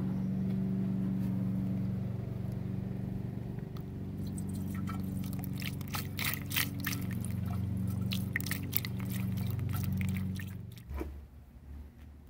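Coolant glugs from a jug into the radiator of a 1975 Cadillac Fleetwood, a steady close pour over a low idling hum, with scattered drips and splashes near the end.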